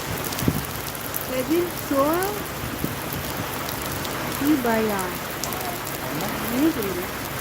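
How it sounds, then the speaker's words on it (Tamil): Heavy rain pours steadily down as a broad, constant hiss throughout, with faint bird-like chirps and a brief voice rising above it now and then. "மழை பட்டை கிளப்புது"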